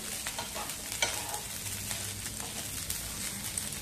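Green chillies sizzle and crackle as they are stirred and roasted in a hot pan, a steady frying hiss with scraping stirs throughout and no talking.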